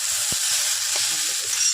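Paneer chow mein frying in a pan is stirred, a bright steady sizzle with a few soft scraping knocks of the utensil, close and without voices.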